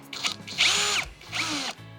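A Procraft PA18BL cordless drill on its second speed bores with a 25 mm spade bit, giving two loud whining bursts with a short break between them.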